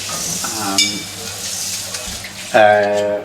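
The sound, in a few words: olive oil and butter sizzling in pan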